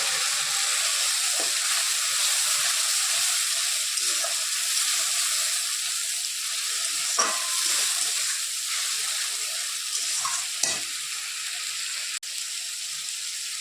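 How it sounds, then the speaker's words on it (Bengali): Ground paste of ginger, garlic, chilli and cumin frying in a pan, a loud continuous sizzle with a few scrapes and clicks of stirring, no talk. "মিক্সিতে করা মশলাটা, আদা রসুন লঙ্কা জিরে ধনে গুঁড়ো এর মধ্যে এখন দিয়ে দিব। দিয়ে মশলাটা ভালো করে কষিয়ে নেব।"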